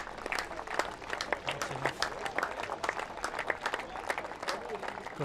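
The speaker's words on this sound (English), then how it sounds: "I'll get a good round of applause" Scattered applause from a small crowd at a club cricket T20 cup final, greeting a departing batsman after his innings of 44; a steady patter of claps with a few voices mixed in.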